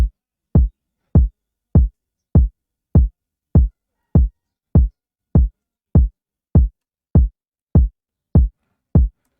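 A 4-step kick drum sample plays in FL Studio as an evenly spaced series of about sixteen punchy, deep thumps, each short and decaying quickly, with silence between hits.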